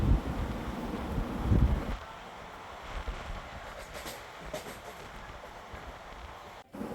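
Inside the Mayurakshi Express from Howrah to Deoghar at night, a steady rumbling roar of the moving train with wind buffeting, louder and gustier at first, then an even running drone.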